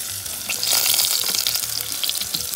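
Garlic hisses in hot oil for Puerto Rican sofrito, a dense, bright sizzle that swells early and holds steady throughout, close and loud with no voices.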